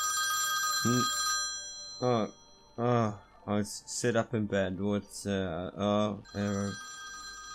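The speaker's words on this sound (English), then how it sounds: "that's the sound of the phone ringing" A telephone rings with a steady electronic trill at the start and again at the end, while someone narrates over the middle part of the ringing.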